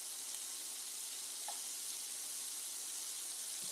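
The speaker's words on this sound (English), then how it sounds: "let's break it apart and get those ground beef crumbles" Ground beef crumbles sizzle steadily in a hot pan while being broken apart with a utensil, a continuous soft hiss with no one talking.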